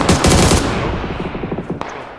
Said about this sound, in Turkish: Şimdi hocam arabaya sıktın zaten